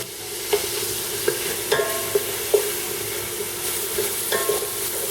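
Masala of ground chili, crushed chili, salt and turmeric sautéing in a pan, a steady loud sizzle broken by several clinks and scrapes of a spoon stirring.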